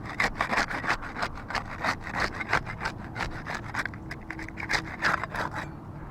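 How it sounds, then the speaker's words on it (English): Putty knife scraping under a roof shingle to break its seal, a series of rhythmic rasping strokes, close and moderately loud, with no talking. "We'll get started with the putty knife. We'll use that to unseal the top shingle."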